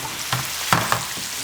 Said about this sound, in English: So we've just seared them in there.